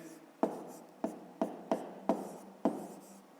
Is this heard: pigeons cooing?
no